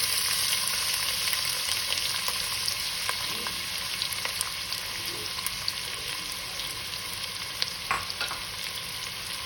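Chopped onion sizzles in hot oil and ghee with whole cumin seeds for a dhaba-style Punjabi masala chicken, a steady close frying hiss broken by occasional sharp crackles and soft stirring scrapes.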